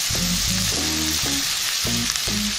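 Onions fry alongside seared chicken in a pan, making a dense, continuous close sizzle, with a low rhythmic humming tone pulsing underneath, no speech.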